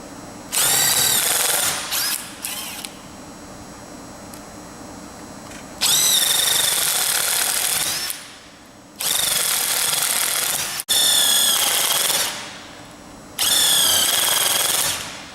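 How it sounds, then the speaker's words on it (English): A power drill bores holes for a CAI hinged Plategrip screw-type belt fastener in four loud, steady whining bursts, separated by short pauses, with no talk. "then begin to drill our holes"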